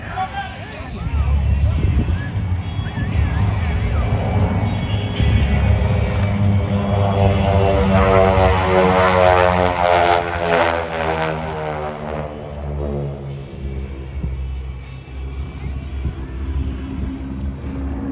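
A propeller aerobatic airplane from an aerobatic team performs at an onion festival airshow in Vidalia, Georgia, its engine drone rising and sweeping past over crowd babble and wind rumble, with an announcer talking throughout.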